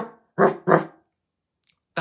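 A voice imitates a dog barking, giving two loud, close, gruff woofs in quick succession, then a pause of near silence before a third bark begins.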